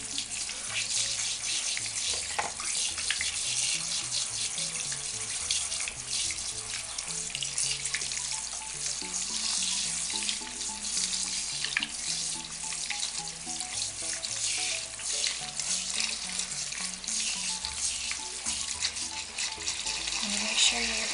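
Tap water runs steadily into a sink while makeup brushes are rinsed of soap, a continuous hiss with faint splashing throughout, with no voices.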